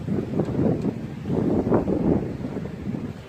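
Wind buffets the microphone outdoors during a quadcopter flight, making low rumbling gusts that swell and fade in uneven bursts.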